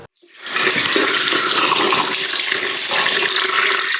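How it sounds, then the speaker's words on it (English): A house tap gushes loud and steady from a quick start, a dense close rush of running water that continues without a break and with no voices. "The water flows sideways in this house."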